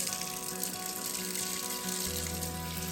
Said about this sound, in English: we're going to run it under some cold water now